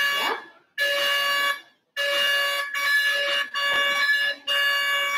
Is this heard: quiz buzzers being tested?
yes